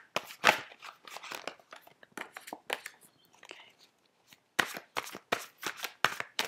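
Tarot cards shuffled by hand in quick bursts of riffling and slapping, close and crisp, with short pauses between the runs of shuffling.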